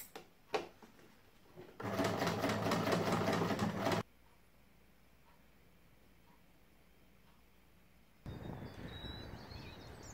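Sewing machine stitching along the pinned thumb seam of a wool bushcraft mitten, a fast, steady whirring run of about two seconds after a few clicks, then quiet handling and rustling, close and soft.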